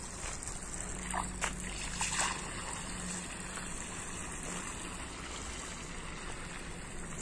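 Water rushes steadily into a home garden as a continuous, fairly faint flowing and trickling wash that holds an even level throughout, with no voices.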